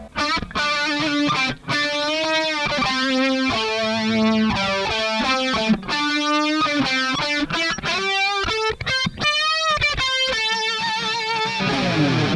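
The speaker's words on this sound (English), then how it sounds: "It's basically just one of the heaviest distortion sounds you can get on there" Heavily distorted electric guitar through a Kemper Profiling Amplifier playing loud, saturated riffs and sustained chords, with brief gaps between phrases; no voices.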